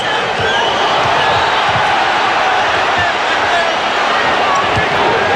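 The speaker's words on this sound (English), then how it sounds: "Crowd reacting as Ewing was battling for possession." A packed basketball arena crowd at a Bulls–Knicks playoff game sends up a dense, continuous roar as players battle for the ball, with a few thuds from the court showing through the din.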